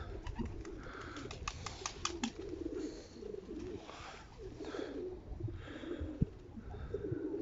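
Pigeons coo repeatedly in soft, throaty bursts close by, with a few chirps early on and a steady background murmur.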